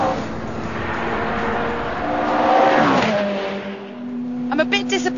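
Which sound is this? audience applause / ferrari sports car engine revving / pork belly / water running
ferrari sports car engine revving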